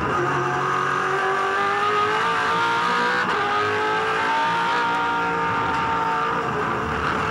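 A 2007 V8 Supercar races around Oran Park, its engine a loud continuous roar climbing and falling through the gears as it powers through the corners, with faint tyre noise underneath.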